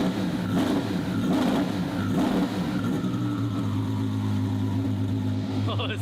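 A turbocharged car engine revs in a few close pulses, then settles into a steady drone with a rising whistle from the turbo spool and voices talking over it.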